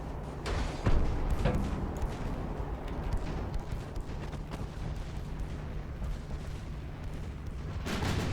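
Deep booming launches from a warship in the naval game Ultimate Admiral Dreadnoughts, a loud thump near the start followed by rumbling heavy fire and a steady low engine drone, with no voices.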